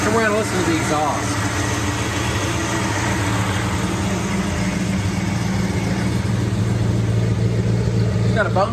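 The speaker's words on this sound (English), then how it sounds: "And we're gonna listen to the exhaust." A 1966 Ford Mustang convertible's bone-stock factory GT exhaust burbles at idle, a low, steady rumble heard close up with no break across the whole stretch.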